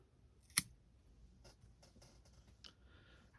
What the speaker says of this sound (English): we have this long branch here that we will trim to